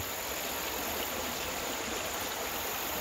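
A creek running high after hurricane rain, a steady, dense rush of flowing water that fills the whole stretch without pause and drowns out any other sound.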